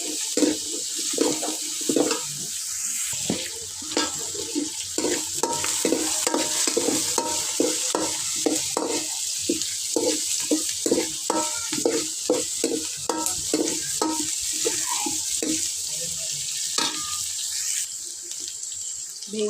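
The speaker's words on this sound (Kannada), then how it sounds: "ಮಿಕ್ಸ್ ಮಾಡಬೇಕು. ಚೆಂದ ಫ್ರೈ ಮಾಡ್ಕೊಳ್ಳುವ." Onion, chilli and ginger being stirred and fried for crab sukka, a continuous sizzle broken by steady scraping strokes of a spoon in the pan, close and fairly loud with no talking.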